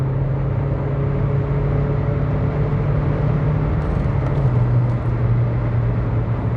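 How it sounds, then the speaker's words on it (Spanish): Seat Ibiza TDI diesel with a straight-through exhaust, its engine droning loud and steady from inside the car while driving at speed, a constant low hum with road noise. "El motor suena hermoso, o sea, me gusta mucho cómo suenan los motores TDI."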